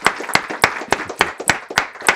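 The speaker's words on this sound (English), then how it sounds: "Another round of applause" Audience clapping for two authors at the close of a book talk on East Asian security, a thinning round of separate hand claps at a steady pace of about four per second, fairly close, with no talk over it.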